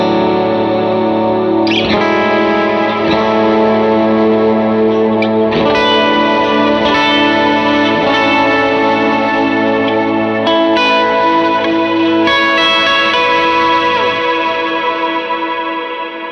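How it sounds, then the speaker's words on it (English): Electric guitar played through a Strymon BigSky pedal on a cloud reverb preset, loud sustained chords and lead notes blooming into a thick, slowly swelling wash of reverb that lingers and rings out between phrases, with no talking. "because it takes longer for the cloud algorithm to build up into the reverb, you hear more of what you're playing"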